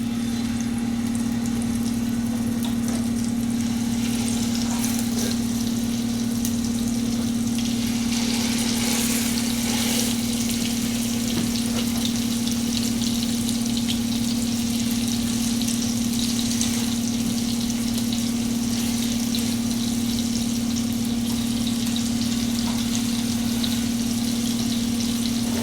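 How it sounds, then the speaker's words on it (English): Salmon sizzles in a pan of hot olive oil and melted butter, a steady broadband frying hiss running beneath a loud, constant low hum, like a kitchen fan, with no talking. "And now we'll add our salmon into the pan."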